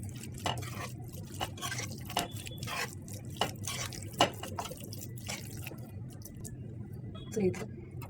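Rava paneer dosa batter is stirred in a bowl with soft, wet squishing and dripping sounds, quiet and close, in an intermittent rhythm.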